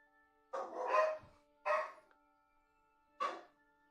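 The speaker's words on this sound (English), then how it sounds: "excited barks just because he wants to. He's a herding breed." Herding breed dog barking excitedly in a yard, three separate loud barks with pauses between them, nearby and with no talk over them.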